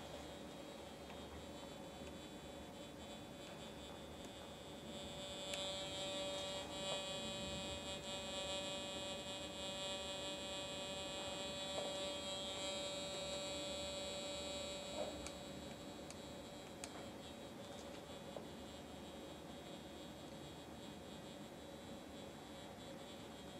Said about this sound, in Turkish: arka planda sürekli devam eden, kullanıcı yorumuna olanak tanıyan eşik sesi mevcuttur